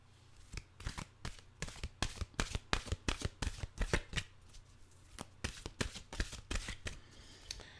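A deck of mantra cards is riffled and shuffled close by, making rapid bursts of crisp flicking with short pauses between passes and no voices.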